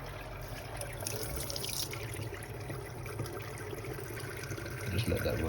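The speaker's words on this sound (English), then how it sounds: "so you can see all the air is starting to come out of this tap" Water running steadily from a tap while air is bled from a Valiant 937 hot water pump system, a continuous rushing trickle that grows slightly louder near the end.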